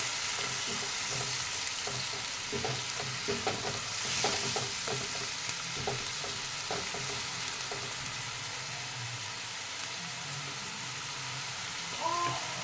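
Onion paste frying in a pan for doi katla gives a steady close sizzle with repeated scraping stirs throughout.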